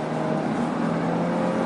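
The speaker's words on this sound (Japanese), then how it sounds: "5500回転から、上、6000回転回りましても非常に気持ちのいいスムーズなサウンド感なんですね。" Suzuki 1.4-litre twincharger engine revving high and smooth, a loud sustained tone with a steady hum, close up and with no talking over it.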